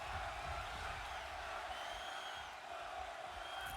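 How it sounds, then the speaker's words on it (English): A wrestling arena crowd in the WWE 2K22 video game cheers for Ilja Dragunov, a dense, continuous roar with scattered whoops that stays loud throughout. "This crowd going insane for Dragunov"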